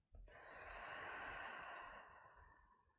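A single long, deep exhalation during a guided breathing and movement exercise, close and breathy, swelling quickly and then tapering off gradually over about three seconds with no talking.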